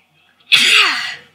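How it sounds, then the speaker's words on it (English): One sharp, loud human sneeze bursts out close to the microphone, a single breathy explosion that fades within a second. "Sorry, just had to sneeze there."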